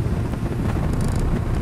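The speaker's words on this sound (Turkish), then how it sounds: "Ya çok rüzgar var ya." Strong wind buffeting a camera microphone on a roadside, a loud continuous low roar filling the whole clip with no talk.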